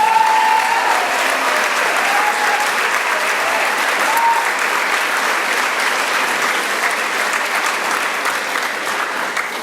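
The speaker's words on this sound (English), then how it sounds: "I think the other person that we need to give a great round of applause to is the Executive Director of the Victorian Women's Trust, Mary Crooks." Sustained applause from a large audience at a live conversation event, a dense and steady wash of clapping that holds loud and close for the whole stretch before easing slightly at the end.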